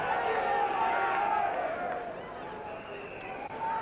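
A football crowd before kick-off at a Millwall home match against Brighton, a broad, steady murmur and roar of many voices that eases slightly toward the end, heard under a commentator's voice.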